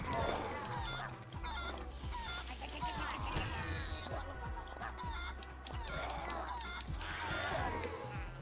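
A chicken clucks and squawks in the video game Guacamelee amid busy game music and scuffling combat effects, the bird's calls bursting up repeatedly over a dense, steady mix.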